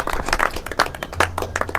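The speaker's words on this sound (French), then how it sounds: "j'aimerais encore une fois de plus qu'il soit applaudi" An audience at a diploma ceremony for instructors and initiators breaks into brisk, close applause, many hands clapping in a steady patter.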